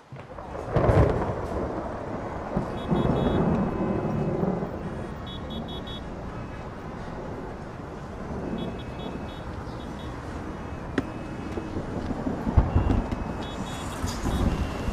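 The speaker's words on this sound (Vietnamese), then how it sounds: "Mưa rồi." Heavy rain with rolling thunder in a drama scene, a loud crack near the start and another rumble near the end over steady downpour, with a brief passing car-like sound.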